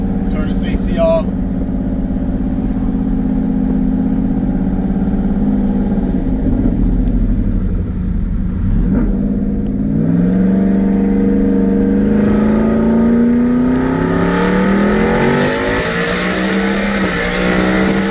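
A twin-turbo Ford F-150 truck engine, heard from inside the cab, drones at low revs and then rises in pitch as it accelerates hard, its steady hum building toward the end.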